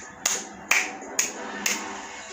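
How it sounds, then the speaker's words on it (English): One person clapping their hands four times in a slow, even rhythm, each sharp clap close and distinct against a quiet room, with no talk. "I'm going to give you a round of applause"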